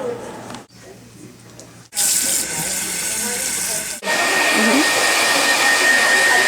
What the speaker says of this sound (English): 5 minutes under the dryer.